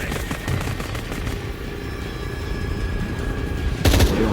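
Gunfire in the video game Shadow of the Tomb Raider, a low rumbling burst of shots under game ambience, ending in a louder, sharper blast near the end.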